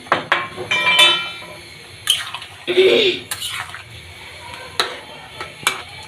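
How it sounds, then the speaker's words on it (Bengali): Pieces of fried hilsa fish dropped into a simmering taro curry, with soft splashes and a few clinks of a utensil against the pot, loudest in a short burst near the middle, amid light kitchen noise. "মাছগুলো এখন মধ্যে দিয়ে দেবো তরকারির মধ্যে দিয়ে দিচ্ছি"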